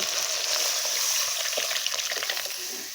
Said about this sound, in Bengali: এবার আমি ডালটাকে দিয়ে দিব